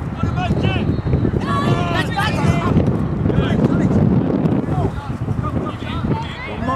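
Wind blowing outdoors at an under-14 sports game, heard as a loud, constant rumble buffeting the microphone, with people talking and shouting over it.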